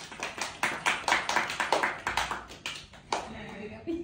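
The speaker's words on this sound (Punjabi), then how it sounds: "ਤਾਲੀਆਂ।" People at a birthday celebration in a village cafe clap their hands in a quick, uneven burst of loud claps that fades out, with voices talking and cheering under and after the clapping.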